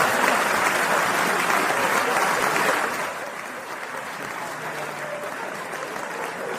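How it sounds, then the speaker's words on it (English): A crowd claps steadily as an audience applauds after a song, loud at first and then tapering to a lighter, thinner patter. "Let me get some applause on that."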